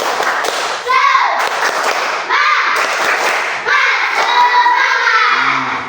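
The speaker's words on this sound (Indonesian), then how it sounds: "Tepuk semangat." A school class doing a rhythmic spirit clap together, loud patterned bursts of many hands clapping in sequence, with children's voices chanting along.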